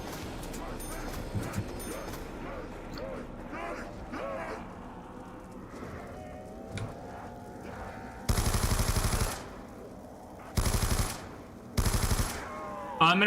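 An RPD machine gun fires in Black Ops 2, cutting loose in three loud, sustained bursts over the second half after a stretch of busier in-game clatter and effects.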